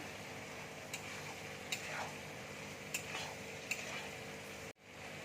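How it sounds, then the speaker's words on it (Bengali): Sev being stirred in a frying pan with salt, a soft steady sizzle with a few light clicks of the spoon against the pan, close and alone, cutting off abruptly near the end. "এবার দেখো, আমি সেওটা দিয়ে দিচ্ছি"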